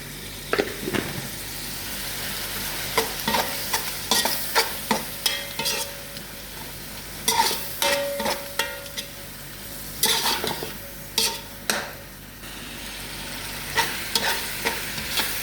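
Tomatoes with turmeric are stirred and fried in a pan, giving a soft, steady sizzle under repeated scraping and clinking strokes of the spoon against the pan, close and fairly quiet.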